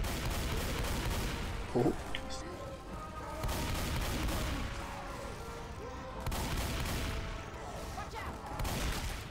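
Gunfire rings out during a tank fight in Left 4 Dead 2, with scattered shots and bursts spread across the moment under excited voices calling out to each other.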